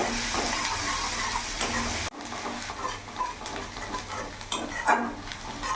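Chopped onion frying in a pan over a medium gas flame, with steady loud sizzling and scraping stir strokes; the sizzle drops abruptly partway, then continues with uneven clinks and stirring, no talking.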